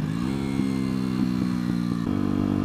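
A 125cc motorcycle engine revs hard through its gears, rising and dropping in pitch with short breaks at each shift, loud and close throughout.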